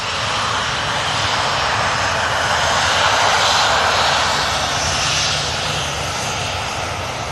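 KLM Boeing 737 jet airliner at Manchester Airport, its engines producing a steady, loud broadband roar that swells slightly in the middle and holds throughout, with no talk over it.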